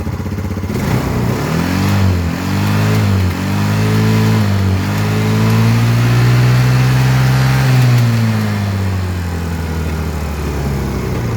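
Carbureted Yamaha Xeon scooter engine revs up, its tone climbing and holding high for several seconds before dropping back to idle, loud and close with no talking over it.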